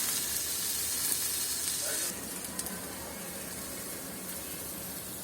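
Pumpkin-leaf paturi fries gently in a pan over low heat, giving a soft, continuous, even sizzle that steps slightly quieter partway through, with a few faint clicks and no talk.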